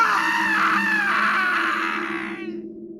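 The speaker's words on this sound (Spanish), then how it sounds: "Un grito que helaba la sangre." A long, blood-curdling scream, loud and close, holds steady with a raspy, strained edge before slowly fading into silence near the end; no other voices.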